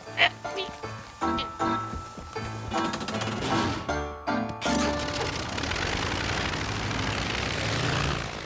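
Cartoon airplane propeller engine from the animated series Ben and Holly's Little Kingdom, a rattling, buzzing drone that starts up after bursts of music and then runs steadily and loudly to the end.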